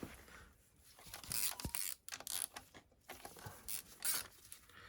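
Connecting rod cap bolts on a Sierra RS Cosworth engine are cracked loose with a wrench, giving a run of close, irregular metallic clicks, creaks and ratcheting scrapes in quick bursts.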